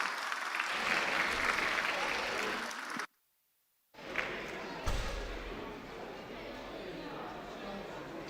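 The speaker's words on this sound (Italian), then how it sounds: "Un applauso per gli amici di San Mugheo." Audience applause for dancers taking the stage at a village folk event in Ollolai, a steady dense clapping that fills most of the clip, breaking off briefly near the middle before resuming at similar loudness.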